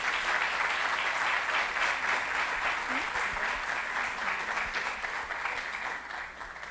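Steady, dense applause from an audience at a urology symposium, a continuous wash of many hands clapping that holds level and thins slightly toward the end, with no talk over it.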